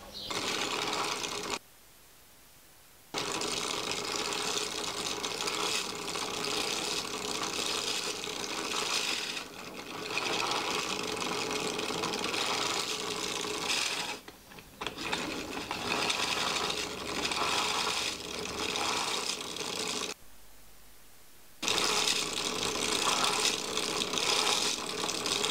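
A tiny hand-cranked generator built from 3D-printed gears and a small copper coil whirs busily at close range in long stretches, broken by several short pauses, with a fine rattling, clicking mesh of plastic teeth as it spins up.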